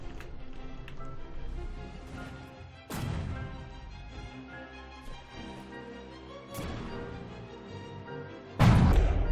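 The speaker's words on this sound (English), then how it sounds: "Massive hit at the fore there." Cannon hits on boats in the naval combat game From the Depths, with repeated heavy crashing impacts and booms over a dense rumbling battle din, the loudest strike landing at the end.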